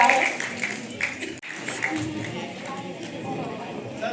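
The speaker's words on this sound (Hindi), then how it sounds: "जोरदार तालियां सभी बच्चों के लिए" A crowd applauds children being honoured at an international Hindi award ceremony in Delhi, with steady dense clapping that dips briefly and then continues at an even level.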